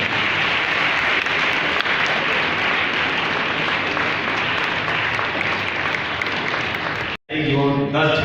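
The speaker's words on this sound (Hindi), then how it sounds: "तालियां भी बजती रहनी चाहिए।" An audience applauding at a women's empowerment event, sustained loud clapping from many hands that cuts off abruptly near the end before a voice begins over a speaker system.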